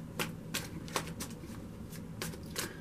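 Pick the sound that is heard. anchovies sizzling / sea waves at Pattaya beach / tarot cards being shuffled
tarot cards being shuffled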